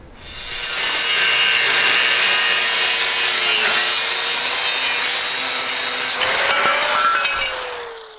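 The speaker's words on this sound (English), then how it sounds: "I'm going to go ahead and cut this off both sides" Saw cutting through the bed of a 1973-87 Chevy or GMC square body pickup during a longbed to shortbed conversion, a loud, steady grinding and rasping that runs continuously for about seven seconds, then tapers off.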